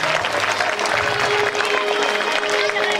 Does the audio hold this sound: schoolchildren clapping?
yes